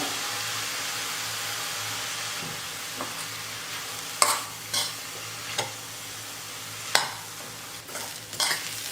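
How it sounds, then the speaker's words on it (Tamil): A spoon stirs carrots sautéing in a pan, with a steady low sizzle underneath and scattered scraping knocks of the utensil against the pan, close and fairly quiet with no speech. "கேரட் வந்து பாதி அளவுக்கு வதங்கினோடனே உப்பு சேர்த்துக்கிறேன்"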